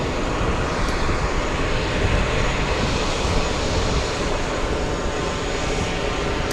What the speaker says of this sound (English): We have Delta 45 flying in from Dublin. A 767-300, a 6-hour, 46-minute flight.